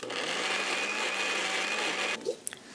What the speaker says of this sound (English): So let's put it into the jar of the blender and blend it up.